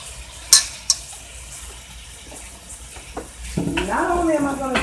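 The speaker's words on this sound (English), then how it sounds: "I'm going to take my lamb chops, place them in this skillet," Lamb chops go into a skillet: a couple of sharp clanks and quiet handling come first, then a loud sizzle bursts up near the end and keeps hissing close by.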